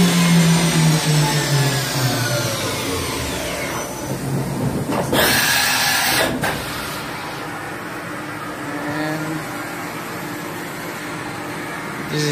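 Samsung MCV-50 vertical machining center with its spindle running up toward 12 rpm setting, a steady whirring mechanical drone with rising whine tones early on and a brief burst of broadband noise midway, continuous and fairly loud.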